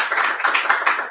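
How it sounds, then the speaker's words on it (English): A small, intimate church congregation at a Sunday service claps briefly, a quick patter of light applause from a few people nearby. "Yay, applaud for yourselves."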